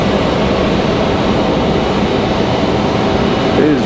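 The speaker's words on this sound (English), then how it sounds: "Comes our beautiful JetBlue" A JetBlue jet airliner in blue and white livery passes at Raleigh-Durham International Airport, a loud, steady engine roar holding evenly throughout with a slight swell near the end.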